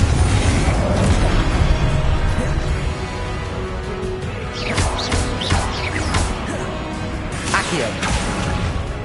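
Spell blasts from the Confringo fire spell in the Hogwarts video game, several booming bursts and crashing impacts piled over a dense, continuous game soundscape, with clusters of bright cracks around the middle and near the end.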